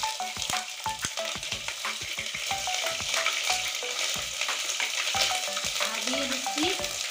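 Chicken curry with ginger paste and chili paste fries in a pan, sizzling steadily throughout with a busy run of close, rhythmic spatula scrapes and clinks, loud and without talk.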